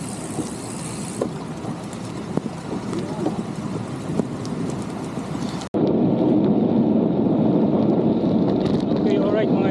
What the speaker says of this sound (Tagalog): inabot na naman tayo ng ulan